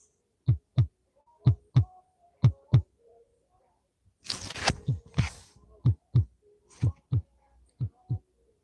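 A stuffed animal toy plays a recorded heartbeat, steady soft lub-dub thumps in pairs repeating about once a second, interrupted midway by a brief rustle of handling before the beat resumes.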